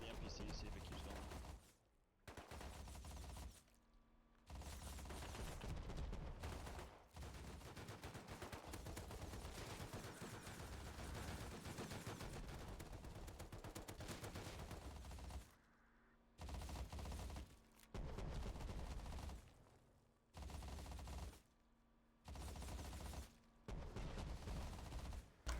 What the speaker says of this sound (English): I can't hear you with all this fucking gunfire.